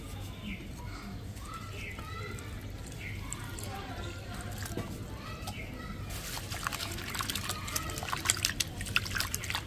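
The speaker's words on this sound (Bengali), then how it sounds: "এই চিড়েটা প্রথমে ভালো করে জল দিয়ে ধুয়ে নেব।" Flattened rice (chira) washed in a big bowl by hand, with gentle trickling and sloshing water that grows busier and splashier toward the end, and birds chirping faintly in the background.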